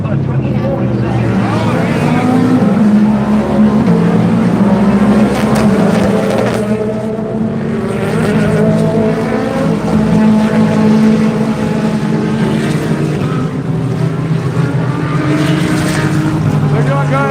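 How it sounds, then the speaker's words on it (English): GT3 race cars, including a BMW, scream past at Daytona during the Rolex 24 endurance race, their engines droning loud and continuous with rising and falling pitch as they pass under race commentary. "He's being reeled in just a little bit now by Chris Van Toor, the BMW at number 24 in second."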